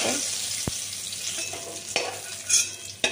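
Spiny gourd (kakrol) fries in hot oil with a soft, steady sizzle while a utensil stirs it, giving a few distinct scraping clicks against the pan; close and fairly quiet, with no talking.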